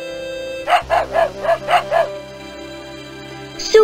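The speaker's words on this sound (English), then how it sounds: "Dog." A cartoon dog in the 1996 PC game Danny and the Dinosaur barks six times in a quick, evenly spaced run over a soft sustained music bed, followed by a brief chime.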